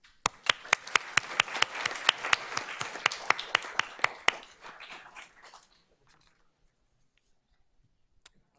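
Sparse applause with loud individual claps at a school board of trustees meeting honoring students, a few close sharp claps over a scattered room, fading out after about five seconds into near silence.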